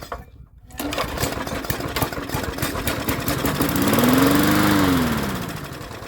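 A free MTD 22-inch push lawn mower, model 11-A084E029, sputters to life and runs loud and close with a rapid chugging beat, engine pitch rising and settling as it keeps running.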